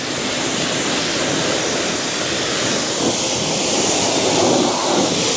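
Steady, loud hiss of water spraying onto ceramic-coated car wheels, a continuous broadband rush with no breaks and no voices.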